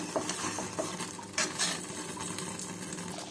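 Steady scraping and stirring of tomato pickle in a pan over medium flame, a constant sizzle, with a couple of brighter clinks of a utensil against the metal.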